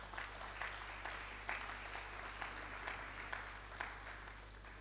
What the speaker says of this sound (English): Please, she deserves a round of applause.